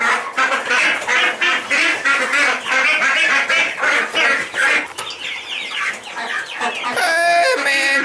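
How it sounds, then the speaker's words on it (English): Chickens and ducks on a homestead cluck and quack together in a loud, busy, close chorus, with overlapping calls throughout and a brief rooster-like crow near the end. "Hey, Mrs. Duckies"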